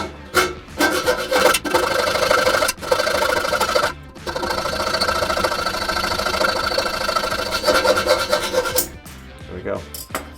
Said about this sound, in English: you can just use one of these little mini hacksaws, and this is a brass bolt, so it should actually be pretty easy to cut through